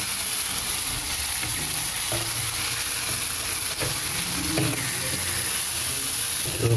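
Fish frying in hot oil in a pan with onion, green chilli and spices, being flipped; a steady loud sizzle and hiss runs throughout with faint scraping of the turner.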